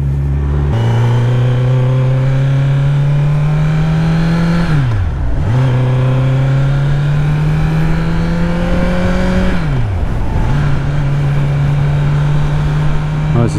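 A Kawasaki Z900 motorcycle, still being run in, revs repeatedly at a steady held pitch, then dips and climbs back up in two distinct blips, loud and close with no talk.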